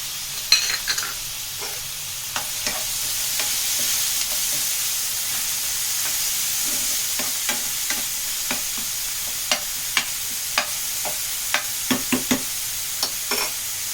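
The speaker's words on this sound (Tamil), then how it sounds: "வெங்காயம் கொஞ்சம் வதங்கினதும் தக்காளி சேர்த்துக்கலாம்." A pan sizzles steadily as onion and tomato cook for rava upma, with scattered light scraping and tapping from stirring, close and continuous without speech.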